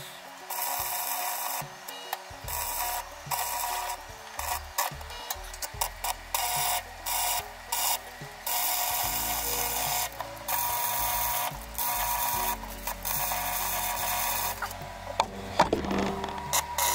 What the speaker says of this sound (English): let's try and weld it and see what happens